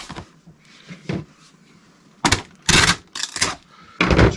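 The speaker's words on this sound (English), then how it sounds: "Then I just tape the crap out of it, I say." Packing tape being pulled and pressed onto a cardboard shipping box, heard as several loud, close ripping strips in quick succession, with quieter handling noises between them.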